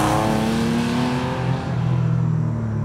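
A restomod narrow-body Porsche 911 drives along a road on 225-section front tyres, its engine a loud, close, continuous drone that rises and falls slightly as it runs, with no voices.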